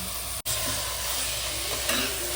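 Mutton with salt is stirred in a pot, a steady hissing sizzle with scraping motion that runs throughout and briefly cuts out near the start, with no voices.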